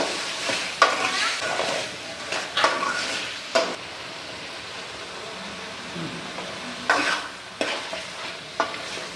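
Meat curry sautés in a pan, a low sizzle broken by several sharp bursts of scraping and stirring, close by and irregular in rhythm.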